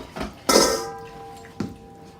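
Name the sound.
stirring remaining flour and salt into focaccia dough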